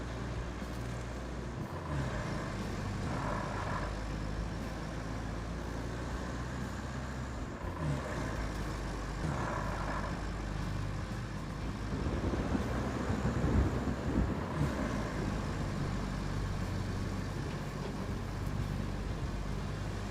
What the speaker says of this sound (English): This truck sounds like it's about to die on me.